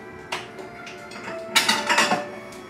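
Potato, white bean and cabbage soup being ladled into a bowl, with a few sharp clinks and clatters of utensil against dishware, the loudest cluster coming near the end.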